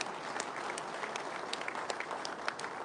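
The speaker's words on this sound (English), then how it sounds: "Please, a round of applause for the NDC." Steady applause from an audience at an NDC aspirants' political dinner, dense continuous clapping with scattered sharper claps, moderately distant and filling the room without pause.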